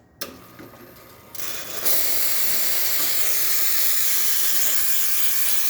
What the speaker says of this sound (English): And now we're going to test the steam wand.